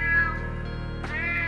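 A cat meows as a sound effect in an Italian story reading, a clear drawn-out call over a steady low background bed, alone without talk.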